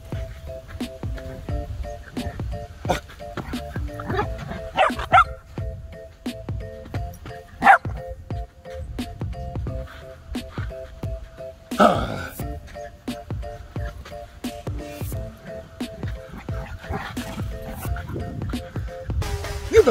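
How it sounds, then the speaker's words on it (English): A dog barks in short scattered yips and woofs, some whimpery, while a person talks intermittently and a steady tonal hum runs underneath. "Who are you barking at?"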